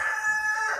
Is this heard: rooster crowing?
yes